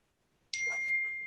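Phone text message notification: a single bright ding after a short quiet moment, ringing out with a sustained tone and slow decay, with faint background murmur.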